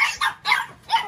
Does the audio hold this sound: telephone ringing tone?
no